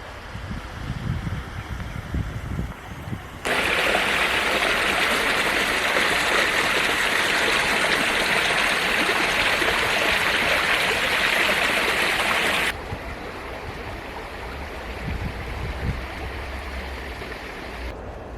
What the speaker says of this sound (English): thousands of liters of raw sewage are flowing into Mcheke River daily